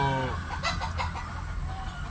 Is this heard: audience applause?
no